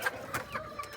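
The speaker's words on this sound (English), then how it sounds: "Some wild chickens. And my baby egg layers." Farm chickens on Kauai, egg-laying hens among them, cluck in a few short bursts, close and fairly loud, with soft background noise.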